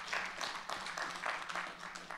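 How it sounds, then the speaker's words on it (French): An audience claps at a live show, a brief burst of steady applause heard faintly at some distance. "ça s'applaudit, ça c'est formidable"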